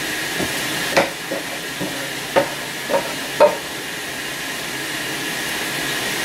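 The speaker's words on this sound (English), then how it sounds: "Making fried rice for a friend and myself." Fried rice in a pan gives a steady, even frying hiss, broken by about half a dozen sharp scrapes and clacks as it is stirred.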